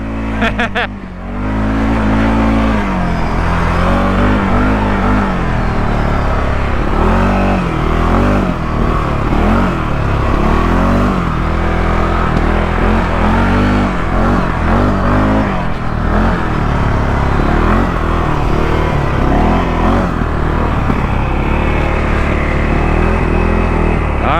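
A CFORCE 600 ATV in low range, rear-wheel drive, charges through sand with a loud, steady engine roar that swells and falls as the throttle works, close and continuous for the whole stretch.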